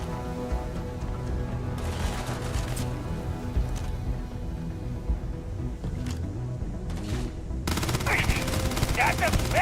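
Rapid gunfire in the video game Starfield, bursts of automatic shots layered over game music and ambience, near and fairly loud, growing denser toward the end.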